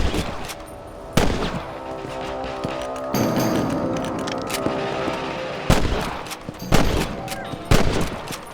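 Rifle gunshots from the video game Red Dead Redemption on PC, several sharp, loud reports fired at irregular intervals over a steady outdoor game ambience.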